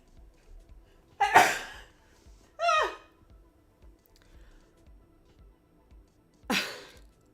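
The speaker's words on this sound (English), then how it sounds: "Sneeze." A sharp sneeze bursts out, then a second shorter one follows, and a third comes several seconds later against a quiet room.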